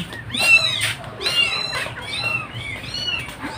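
A cat meows repeatedly up close, several rising and falling cries spaced about a second apart over faint background noise.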